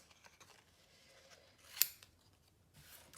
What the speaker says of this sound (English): I'm gonna fussy cut them out